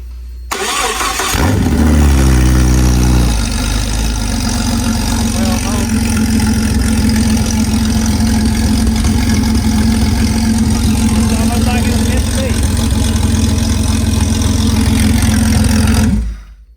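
A 1997-2001 Jeep Cherokee XJ engine cranks over and catches within a couple of seconds, then settles into a steady, loud, close idle with a low rumbling hum that holds until it shuts off near the end.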